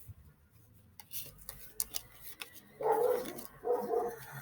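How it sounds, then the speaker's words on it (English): A dog barks several times in a loud burst, with further barks following after a short pause, against a faint, rustling indoor background. "Excuse the barking."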